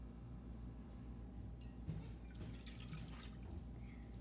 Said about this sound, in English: Then pour it into the bowl.